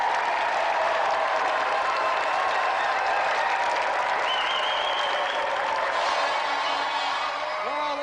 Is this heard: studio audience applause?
yes